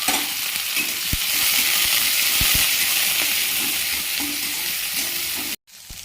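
Chopped onion, garlic, ginger and green chilli frying in hot oil with cumin and dried red chilli, a steady close sizzle with a few sharp clinks of a spatula stirring the pan, then a sudden brief cut.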